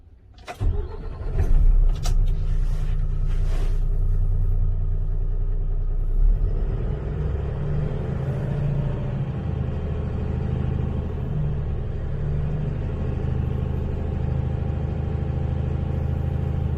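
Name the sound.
truck diesel engine starting and revving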